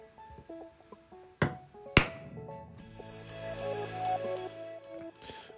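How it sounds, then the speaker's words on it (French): Sharp metallic taps of a hammer on a center punch set against a metal bar, two distinct loud strikes close by, with a ringing tone and light workshop noise around them. "on met un petit coup de pointeau pour faciliter le perçage."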